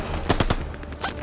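Short bursts of machine gun fire in the Call of Duty: Vanguard war game, a few rapid cracking volleys spaced across a brief moment with no talk over them.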